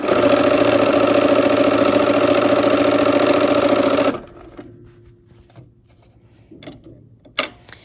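A sewing machine runs steadily and loudly for about four seconds while stitching quilt blocks for a Christmas block-of-the-month quilt, then stops, leaving quiet room noise and a few faint handling clicks.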